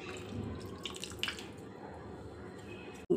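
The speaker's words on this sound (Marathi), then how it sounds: "भिजवलेले चिंचाचं पाणी पण घालून घेऊ आपण याच्यामध्ये." Soaked tamarind water poured into cooking dal for a vegetable dalcha, heard as a faint trickle with soft drips in a quiet kitchen, ending in a brief clunk.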